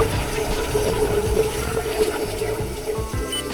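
Continuous rushing river water flows with a steady gurgling wash, fairly loud and close, with no voices.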